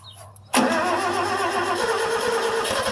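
A Satoh S650G tractor engine cranks briefly and catches, then settles into a steady, loud, close idle with an even mid-pitched running rumble.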